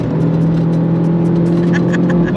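A Mini R56 John Cooper Works track car's engine drones steadily from inside the cabin while lapping a circuit, a close, even hum that holds at a constant pitch with no clear revving.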